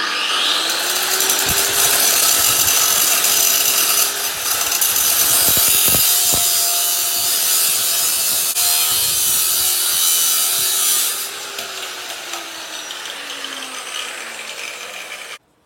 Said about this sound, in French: Vous prenez votre disqueuse munie d'un disque à métaux et vous y allez, vous découpez.